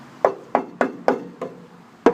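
Six sharp knocks on the solid, original-painted steel chassis of a Land Rover Series 1, struck at an uneven rhythm, each a close, hard rap with a short ringing decay and no talk.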